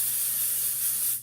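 Hair spray hisses from a can onto lifted hair in a single close, steady burst lasting about a second before cutting off.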